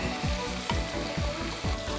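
Sauce sizzles loudly in a hot cast iron pan, a continuous frying hiss broken by about four rhythmic low scraping strokes as it is stirred, with no talking.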